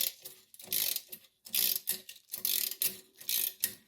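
A ratchet clicks in bursts, close and fairly quiet, loosening a rusted 12mm clamp on the exhaust of a Gen 3 Suzuki SV650, with short pauses between the runs of rapid clicking.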